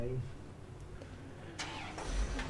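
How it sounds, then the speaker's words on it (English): A car starting up and pulling away outside the Scottish Parliament during a Scots Guards crown escort, with a low engine rumble rising toward the end beneath crowd noise and nearby voices. "There's the car going."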